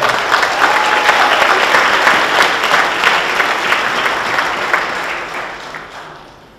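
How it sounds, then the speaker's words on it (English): A large seminar audience applauds loudly in a dense, continuous wash of clapping. It holds steady for about five seconds, then fades away. "let's give both the Department of Virginia and the Department of Wyoming a round of applause"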